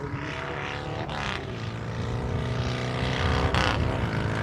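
A racing motorcycle accelerates along a live runway and short-shifts up through the gears, its engine note droning loud and steady with shifts breaking the pitch.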